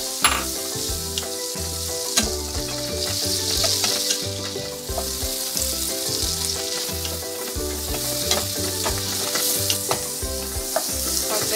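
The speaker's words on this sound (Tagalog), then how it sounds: "Medyo nasauti na yung ating mushroom" Mushrooms sauté in butter and garlic in a pan with a loud, continuous sizzle and crackle. Occasional stirring scrapes sit just beneath it, close up and steady with nobody speaking.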